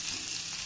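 Onions with curry leaves sauté in a pan, a brief, steady hiss of frying with no distinct stirring strokes, moderately quiet.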